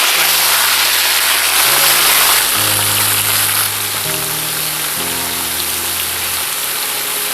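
Duck pieces frying hard in a kazan give a loud, steady crackling sizzle throughout, with a low tonal hum running underneath and no voices.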